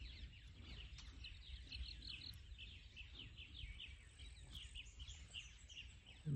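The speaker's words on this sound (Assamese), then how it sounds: "চাৰিওফালে চৰাই চিৰিকটি মাত" Small birds chirp and tweet steadily in open fields, many thin calls overlapping at a moderate distance, with no talking.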